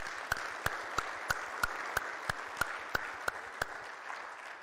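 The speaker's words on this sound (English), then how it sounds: "Let's give them one more round of applause" Conference audience at the State of the Onion 2023 event clapping for the speakers, heard as a sparse, evenly spaced run of sharp claps roughly three per second, fairly close and distinct against a quiet room, fading out near the end.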